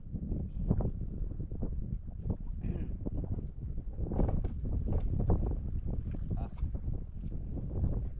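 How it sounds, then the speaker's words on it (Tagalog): Wind rumbles and buffets the microphone steadily while people talk nearby. "medyo umihip naman ng hangin"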